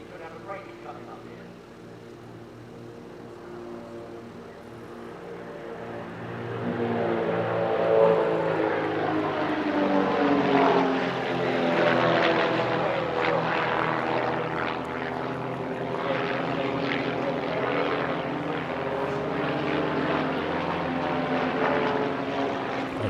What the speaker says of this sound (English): A lovely bomb burst coming up, with 3 aircraft splitting on the way up and 3 more on the way down.